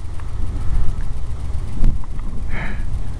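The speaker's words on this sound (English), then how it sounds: "See if I can't do something with all this wind." Strong wind at a lakeside park buffeting the microphone, a loud rough rumble that swells and fades in gusts, with faint distant sounds and no voices.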